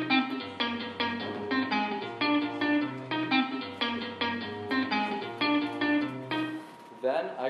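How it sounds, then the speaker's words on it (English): A sampled guitar loop in a song repeats a bright, plucked rhythmic figure over a steady low bass. It plays at moderate volume without any voices and briefly changes near the end. "In this case, I sampled a guitar loop."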